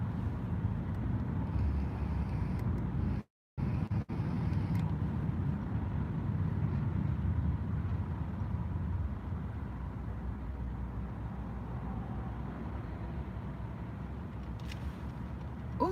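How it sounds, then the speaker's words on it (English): A car moving through road traffic gives a steady low rumble of engine and road noise from inside the cabin, continuous and fairly quiet, with one brief dropout. "I'm in traffic."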